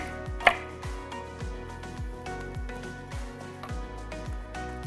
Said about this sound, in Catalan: I ara anirem tallant ja totes les verdures.